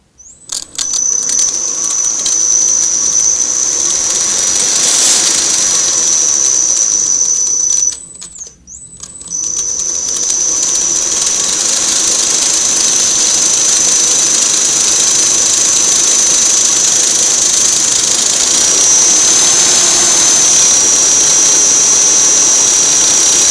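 A belt grinder on a cart starts up and runs with a loud, steady high-pitched whine, briefly cutting out and spinning back up partway through, then whirring on continuously.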